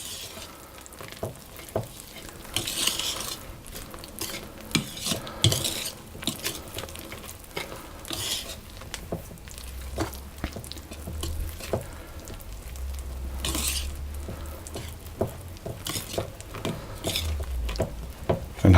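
Raspberry muffin batter being mixed in a bowl, soft irregular scraping and squishing strokes with occasional clinks of utensil against bowl, fairly quiet and close, no talking.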